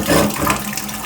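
Water rushing down a freshly unclogged drain past the P-trap, a loud, steady gushing wash that fills the whole short stretch, close and alone.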